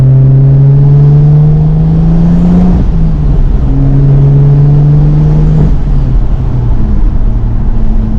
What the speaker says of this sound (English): I put the windows down so you can hear a little bit of the exhaust